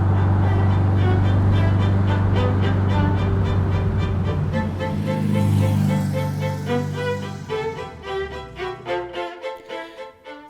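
A Porsche 356 Super 90 engine hums steadily at close range while driving, a low, throbbing drone, then the note shifts and pulses unevenly as it eases off near the end.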